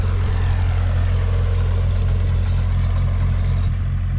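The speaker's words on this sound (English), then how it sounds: "8N Ford tractor, pulling the cultivator behind it" An 8N Ford tractor pulls a cultivator to break ground for a fall food plot. Its engine gives a loud, close, continuous low drone that stays steady throughout, with no talking.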